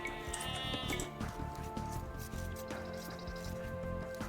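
Sheep bleating in the game Age of Empires II, a few nasal bleats over a busy bed of game ambience and music.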